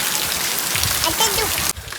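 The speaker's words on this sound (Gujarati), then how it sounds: "સવારથી વરસાદ કન્ટિન્યુ ચાલુ છે." Rain falls continuously in a close, steady hiss with light spattering, while voices talk briefly underneath before the sound drops off abruptly near the end.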